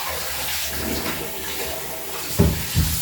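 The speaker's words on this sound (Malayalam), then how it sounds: "നമ്മുടെ ചീരനെ നമുക്ക് നന്നായി ഒന്ന് അവിടെ കഴുകാം" Spinach being rinsed under running water at home, a continuous splashing flow with a couple of louder knocks and splashes near the end.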